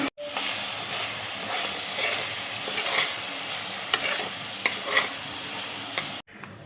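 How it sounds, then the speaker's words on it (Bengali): Fried grated coconut being stirred with condensed milk in a pan for a coconut sweet, a steady close sizzle and scraping hiss running unbroken for several seconds before stopping abruptly. "নারকেলটা দেখো ভাজা হয়ে গেছে। এবার আমি কনডেন্স মিল্ক দেখো দিয়ে দিচ্ছি।"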